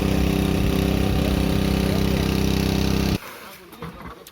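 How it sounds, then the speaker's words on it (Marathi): A motor-driven water pump drains a pond pool for fishing in the Konkan, running as a loud, steady mechanical drone that cuts off abruptly near the end and leaves quieter outdoor background. "इकडचं मशीन उपसून झाले"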